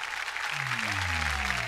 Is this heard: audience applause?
yes